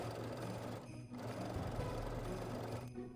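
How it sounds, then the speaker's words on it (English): A sewing machine stitches dress sleeves into the armholes, its rapid steady hum and needle chatter running faintly and continuously, with brief pauses in the motor. "Pin the sleeves at the armhole and then sew the sleeves in place"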